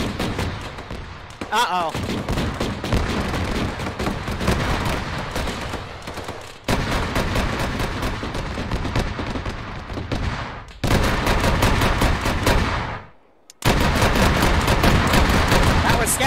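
Heavy gunfire in Arma 3 is aimed at a BTR-80A armored vehicle: dense, rapid bursts of shots and booming impacts broken by brief lulls. A voice speaks briefly amid the shooting.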